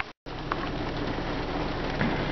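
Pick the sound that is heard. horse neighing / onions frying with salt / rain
rain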